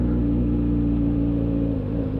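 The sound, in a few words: motorcycle engines at a motorcycle rally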